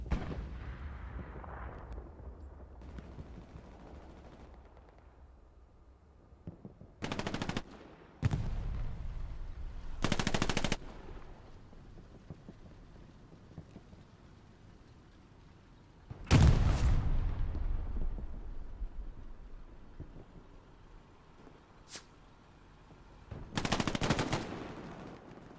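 Battlefield gunfire in the Hell Let Loose video game, with sharp loud bursts of rifle and machine-gun fire and heavy blasts that break through a low rumbling background, some shots near and others farther off.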